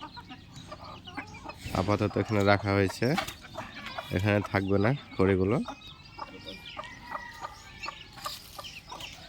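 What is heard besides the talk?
chickens clucking while being fed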